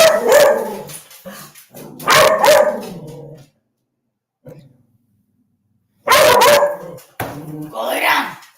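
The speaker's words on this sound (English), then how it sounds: "the dogs, they get crazy. Here they go." Several dogs bark loudly and close by in repeated bursts, with a quiet gap in between, then break out barking again with yips and whines, indoors.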